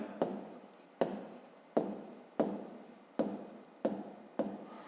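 A pen writing a math expression on paper in a fifth-grade lesson, a string of about seven scratchy strokes, each starting with a sharp tap and trailing off, close and quiet with no voice.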